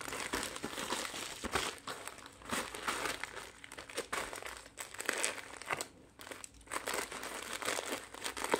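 Plastic packaging crinkles and rustles continuously up close as a white full-size E-YOOSO E-30 2.4G wireless gaming keyboard with 99 keys is unboxed, with a few sharper crackles and no voices.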